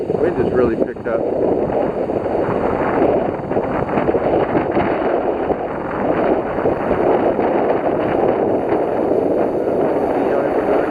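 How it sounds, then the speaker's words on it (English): Strong wind at a public pier on Lake of Bays in Dorset buffets the microphone with a loud, continuous rushing roar that lasts the whole clip. "Wind has really picked up."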